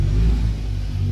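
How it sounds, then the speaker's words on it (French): Motorcycles rumble along a street outdoors, a loud, close, steady low engine drone throughout the brief moment. "je suis dehors, du coup on entend les bruits des motos et tout"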